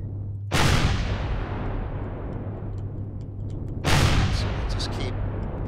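Heavy weapon fire blasts at an enemy in the space survival game Empyrion, two loud booming bursts about three seconds apart, each trailing into a long rumbling roar.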